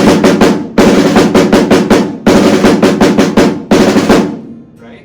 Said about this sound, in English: And French will sound like this.